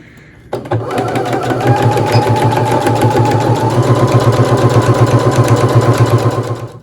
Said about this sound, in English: I'm gonna backstitch at the beginning and the end